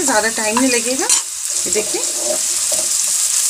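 Cumin seeds crackle and sizzle in hot oil at the start of a chickpea curry, a steady bright hiss running under a voice throughout.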